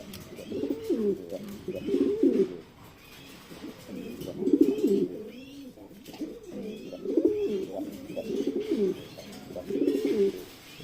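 Racing pigeons coo in a loft, repeated low throaty bursts coming in rhythmic groups, close and clear, with a voice faint in the background.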